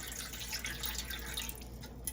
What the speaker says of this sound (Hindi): तो पानी भी डाल लेते हैं।